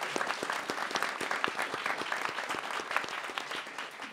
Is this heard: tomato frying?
no